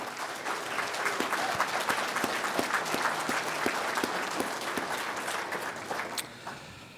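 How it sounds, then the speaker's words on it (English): Audience applause for a student youth panel, a steady dense clapping from a crowd filling the room for about six seconds before tapering off near the end. "let's give these students a round of applause to show how proud of them we are for being here"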